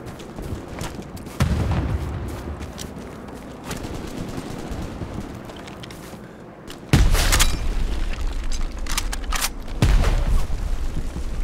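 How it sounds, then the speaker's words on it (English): A grenade goes off in the World War II shooter Hell Let Loose, a loud close blast followed by further heavy booms and gunfire over a constant battlefield rumble. "Throw a grenade."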